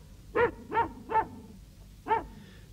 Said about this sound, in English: the next thing he heard was Mungo barking